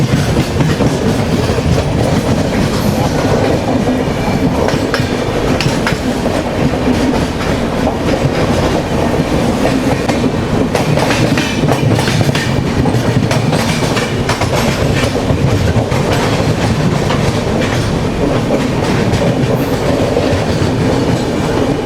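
A Humsafar weekly express train runs on the rails on its first run from Srikakulam Road to Tirupati, a loud, continuous rumble with rhythmic clickety-clack of wheels over rail joints, heard up close from on board.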